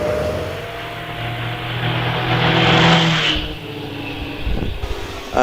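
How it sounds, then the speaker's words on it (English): A vintage Vauxhall racing car leaves the start line at the Prescott hill climb, its engine roaring loudly as it accelerates away and rises in pitch, then fading into the distance with crowd ambience. "The Vauxhall 39 of Andrew Dixie has just left the line"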